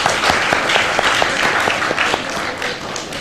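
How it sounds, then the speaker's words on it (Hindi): Studio audience applause on a Pakistani morning television show, a loud sustained burst of many hands clapping close by that slowly eases toward the end. "तो मैं आपके लिए तालियां बजाना चाहूंगी"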